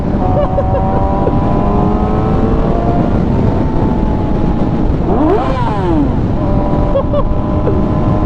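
A Yamaha R6 sport motorcycle engine drones loudly and continuously, with its pitch swooping up and down as it revs, heard from close by over wind noise.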